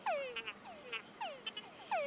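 Hourglass frog calling in a Costa Rican setting, a run of sharp, descending chirps and clicks that repeat at an uneven rhythm, close and clear, with no voices over it.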